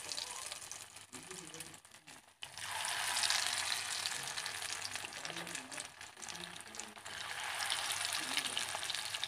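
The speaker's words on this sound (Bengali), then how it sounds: "এরকম করে বাকিগুলো আমি এরকম করে ভেজে নেব" Lentil fritters (dal bora) deep frying in hot oil give a steady, loud sizzle and crackle that drops out briefly near the start, then returns and holds through to the end, with no talking.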